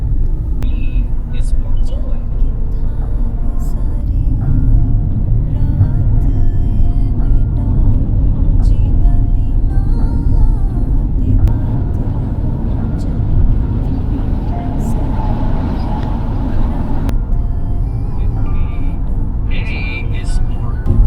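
A car cruising a highway in the early-morning dark near Limkheda and Dahod, with a steady road rumble, passing traffic and trucks whooshing by, and occasional brake hiss; people talk throughout.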